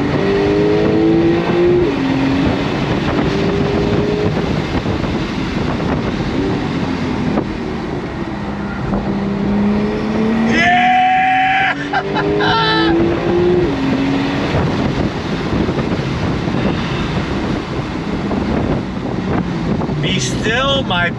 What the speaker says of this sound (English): the rush of the turbo boost from the turbo spooling up, it's downright ridiculous